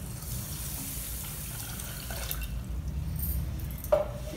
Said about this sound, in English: Take it in a vessel and add 500 ml of water to this.